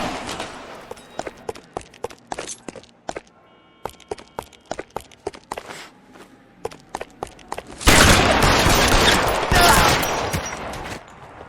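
Shootout gunfire from the video game L.A. Noire: scattered sharp shots and impacts at first, then a dense, loud burst of rapid sustained fire filling the final few seconds.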